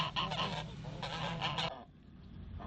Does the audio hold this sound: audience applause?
no